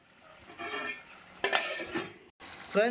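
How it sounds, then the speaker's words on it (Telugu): Chicken curry with masala is stirred in a pan, giving close scraping and sizzling strokes in bursts with a brief pause, loud and alone. "ఇలా మిక్స్ చేసుకోవాలి, కాసేపు క్యాప్ పెట్టి ఉడికించుకోవాలి"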